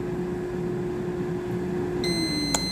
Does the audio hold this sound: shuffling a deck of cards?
no